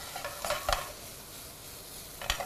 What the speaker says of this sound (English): And we can almost start to dry fry this.